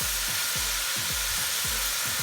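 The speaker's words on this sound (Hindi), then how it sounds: "इसमें 2 से 3 मिनट के लिए फ्राई कर लेंगे तेज़ आंच पर" Bone-in beef frying over high heat in a pot for aloo gosht, a steady dense sizzle with a faint rhythmic low knocking underneath, close and without talk.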